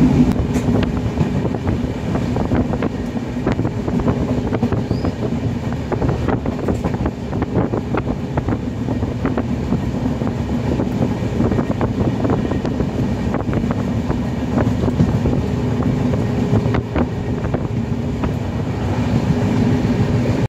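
A train rumbles steadily along with continuous low clatter and wind buffeting, loud and close throughout with no talking.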